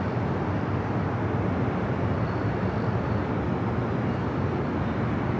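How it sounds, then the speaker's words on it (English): An Air Canada Boeing 737 MAX 8 arriving from Vancouver lands at LAX, heard as a steady, dense jet roar holding at even loudness throughout, fairly distant with no voices. "Next arrival on the north side is Air Canada Flight 552 coming in from Vancouver"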